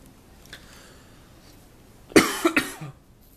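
A person coughs several times in a quick, harsh burst, close and loud, after a quiet stretch with a faint earlier noise.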